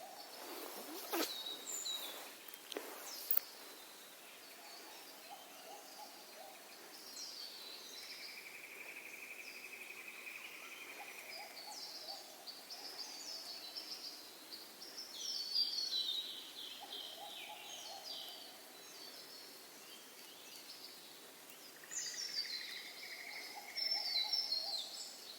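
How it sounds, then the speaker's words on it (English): Birds singing outdoors near an abandoned railway tunnel in Queensland, repeated faint chirps, trills and whistled phrases from several birds over a quiet background with some insect buzz. "I just keep stopping to listen to the birds."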